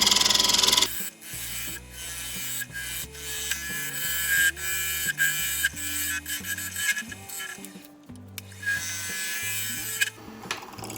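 A skew chisel cuts a tenon on a wood lathe, making a rough, continuous scraping and rasping against the spinning wood. The cutting is close and fairly loud, with brief pauses, over background music.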